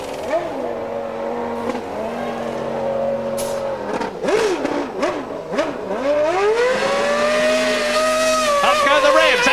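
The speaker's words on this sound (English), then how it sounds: "Up go the revs, out goes the Williams. Tyres smoking, burning rubber." A 1995 Williams Formula One car revs hard out of a pit stop with tyres smoking, its high engine note rising and falling through gear changes, loud and close, under a commentator's voice.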